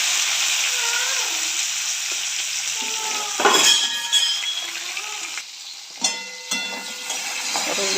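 Pointed gourd frying in hot oil with panch phoron and dried red chilies, a loud close sizzle with a burst as pieces hit the oil, then clinks and scrapes of a spatula against the pan, no voices.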